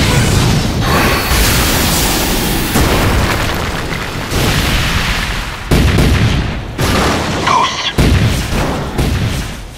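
A suit's final detonation goes off as a loud, sustained boom, with heavy rumbling blasts and bursts of debris-like crackle that keep surging and cutting out over about ten seconds.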